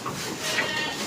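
Goats bleating on a dairy farm near the milking parlour, several overlapping bleats from the herd, fairly close and continuous over a brief moment.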